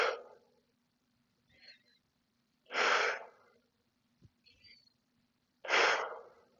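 Three deep, slow breaths by a chair yoga instructor, each a loud, airy exhale spaced a few seconds apart, with soft inhales between them in a quiet room.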